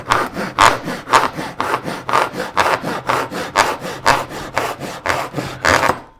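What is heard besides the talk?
cutting wood with a Japanese hand saw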